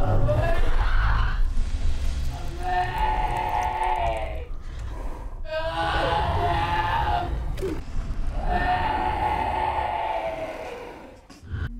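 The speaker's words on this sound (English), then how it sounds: "it speaks in the screams of terror and pain of its former victim" A creature from the film Annihilation screams with the voice of its dead victim, drawn-out anguished human-like wails rising in three long bursts over a low rumbling backdrop.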